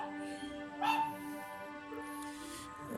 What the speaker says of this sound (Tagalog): pati yung aso nakikisama